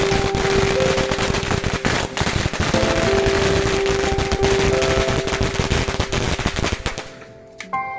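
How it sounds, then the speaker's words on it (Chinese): A long string of firecrackers set off outdoors rattles in a dense, rapid crackle of loud bangs for about seven seconds before thinning out and stopping. "先跟我老爸出来放个鞭炮啊！"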